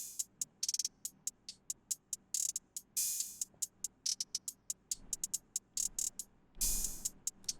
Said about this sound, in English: Then I have an open hat.